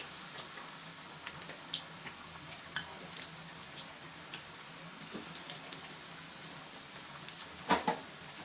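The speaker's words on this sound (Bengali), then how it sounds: "আমি এখানে একদম ডোবা তেলে চিকেনটাকে ফ্রাই করে নিচ্ছি" Chicken pieces deep-frying fully submerged in oil over low heat for chilli chicken, giving soft, scattered crackles and sizzling pops, faint and sparse, with a brief louder burst of spatter near the end and no talk.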